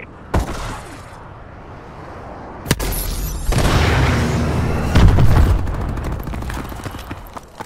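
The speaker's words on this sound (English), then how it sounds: "Friendly missile strikes inbound." Missile strikes in the video game Call of Duty: Advanced Warfare, with an early sharp hit, then heavy booming explosions and rumbling blasts that swell loud and close before fading to debris crackle.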